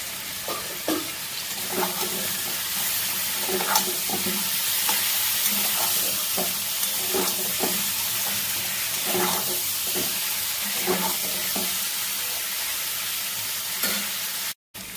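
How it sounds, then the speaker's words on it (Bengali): Chopped tomatoes fry in a pan with a constant sizzling hiss, while a spoon scrapes through them in a loose, regular rhythm of strokes, close and steady throughout, with no speech. "কেটে রাখা টমেটো দিয়ে দিচ্ছি।"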